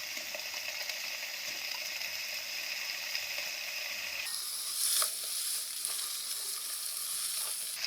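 Tofu sizzles and fries steadily in a hot pan during stir-frying, a loud continuous crackle that brightens and intensifies partway through, with faint stirring and no talking.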